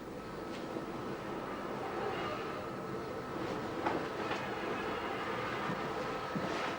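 Steam locomotive 35027 Port Line running round its train at the Bluebell Railway, a steady rumble of wheels and rail with clickety-clack joints and occasional faint squeals, moderately close and continuous.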